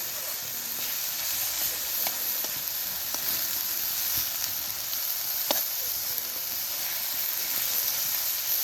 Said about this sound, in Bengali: এবার রসুনটা দিচ্ছি, রসুনটা দিয়ে সুন্দর করে এরকম করে ভাজা ভাজা করে নিই